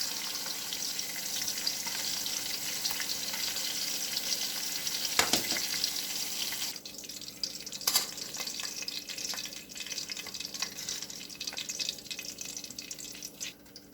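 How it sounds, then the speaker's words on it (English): Shrimp sizzling in a frying pan for a Chinese shrimp chow fun, a loud steady crackling hiss throughout, with a sharp clatter midway, after which the sizzle eases slightly. "I hope you can hear me over this frying pan."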